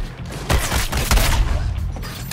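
Dense, loud bursts of gunfire from shooting in the video game Suicide Squad Kills the Justice League, with rapid overlapping shots and booms continuing throughout.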